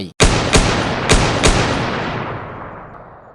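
Gunfire aimed at a tiger in the forest: four loud, sharp shots in quick, uneven succession, each ringing out, followed by a long fading echo.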